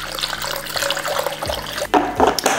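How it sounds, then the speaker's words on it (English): Water poured from a tap into a pitcher, a steady close splashing and trickling stream with gurgling shifts as the vessel fills. "put 600 or 700 millimeters of water into our pitcher"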